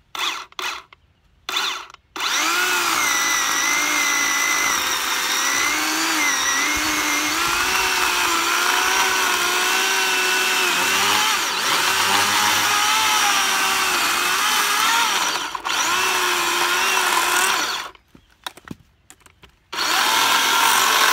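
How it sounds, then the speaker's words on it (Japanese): An electric chainsaw runs steadily through a green cherry log, a loud continuous whine with wavering pitch that holds for about fifteen seconds, with brief pauses near the start and end where the saw stops. "電気チェーンソーでいきたいと思います"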